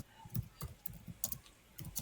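Keystrokes on a computer keyboard, a quick run of separate clicks in small irregular bursts, close and fairly quiet with no talking.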